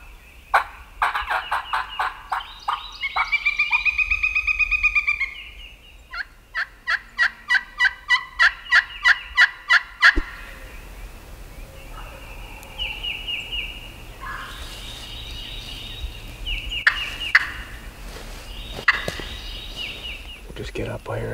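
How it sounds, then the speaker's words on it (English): Wild turkeys gobble on public land in Tennessee during a hunting morning, with repeated rattling gobbles up close at first, then fainter calls and scattered bird chirps further off. "Today they're not gobbling very much."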